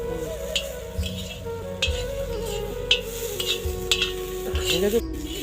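Large pots are stirred over outdoor cooking fires while food cooks for a midday meal, with repeated metallic scrapes and clanks of utensil against pot, roughly once a second, over a low sizzle and faint background noise.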